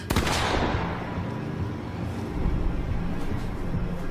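A single sharp gunshot cracks loudly at the start in the horror video game The Quarry, then a low rumbling echo lingers for a few seconds.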